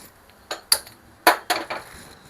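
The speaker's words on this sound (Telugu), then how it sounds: "కొత్తిమీర అంతా ఒకసారి కలిపేసుకుందామండి" A spoon stirs chopped coriander into chickpea curry in a pot: a handful of sharp metallic clinks and scrapes, close and fairly quiet, with no talking.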